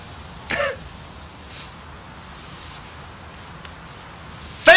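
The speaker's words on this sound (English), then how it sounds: "I was just clearing my throat." A man clears his throat once with a short, close, husky rasp, followed by near-quiet room tone and a brief second burst at the very end.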